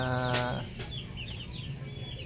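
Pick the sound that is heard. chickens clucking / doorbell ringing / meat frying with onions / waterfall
chickens clucking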